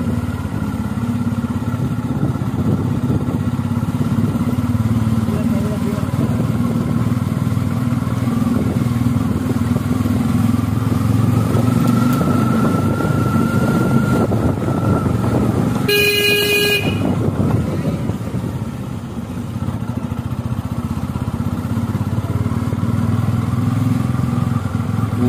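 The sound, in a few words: Bajaj Pulsar F250 motorcycle being ridden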